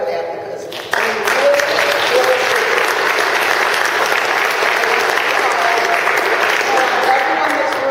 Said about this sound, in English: I want you to clap for that